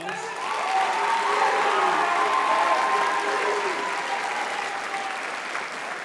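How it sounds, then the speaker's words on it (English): Audience applause fills a hall at a high school faculty recital, a steady, even wash of clapping from many hands that holds for several seconds, with no voices over it. "Give a round of applause."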